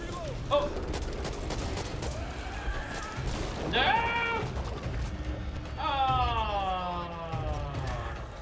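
Rapid bursts of gunfire from the co-op zombie shooter Back 4 Blood crackle through the opening seconds, loud and close, with in-game character voices talking over and between the shots.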